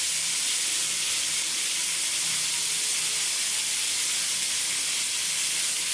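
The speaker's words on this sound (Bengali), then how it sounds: "এটা বয়লার মুরগি ভাজা" Pieces of broiler chicken frying in a pan, a constant dense sizzle and hiss from hot oil, steady and close with no pauses.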